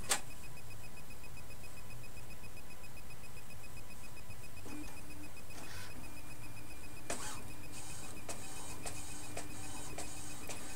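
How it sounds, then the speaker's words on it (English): A book scanner runs steadily with a faint mechanical hum, then produces a sequence of sharp ticks and clicks as it scans text and prints a copy. The sound is quiet and nearby, with no talking. "then simply press start, and then allow the machine to scan the text."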